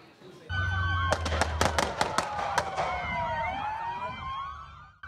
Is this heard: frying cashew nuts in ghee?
no